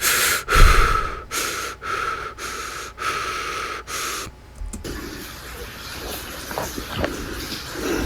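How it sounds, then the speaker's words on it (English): Heavy, rasping breaths echo in an abandoned rail tunnel, loud close inhale-exhale cycles in a regular rhythm for several seconds before giving way to quieter, hollow ambient noise with faint scattered sounds. "They always have to have the heavy breathing."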